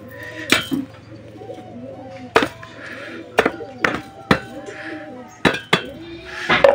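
Crushed fired-brick grit is mixed by hand as pigeon feed, giving a run of sharp, irregular gritty clinks and knocks close by, with soft bird murmurs in the background.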